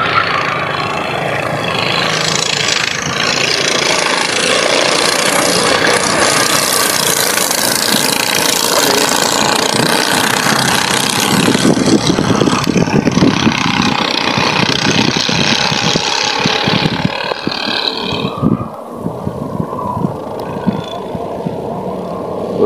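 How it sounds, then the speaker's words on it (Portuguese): Go-kart engines race around the Cascavel kart track in Paraná, a loud continuous buzzing roar that swells as karts pass close, then thins toward the end with a fainter engine note. "Olha que beleza, pista de kart aqui de Cascavel."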